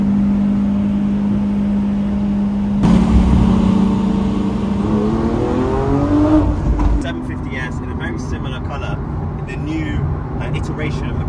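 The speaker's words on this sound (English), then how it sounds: "driving in our Convoy right now" Cars rolling in a Gumball 3000 convoy from Edinburgh to London: a steady close engine drone from inside a car, a rising rev and surge about midway, then a rougher rumble with light clatter and faint voices.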